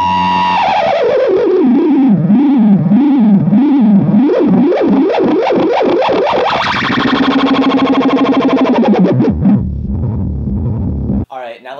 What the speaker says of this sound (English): tape delay is the oscillation runaway feature, and it happens when you crank up the echo volume and the echo sustain, and then you mess with the echo delay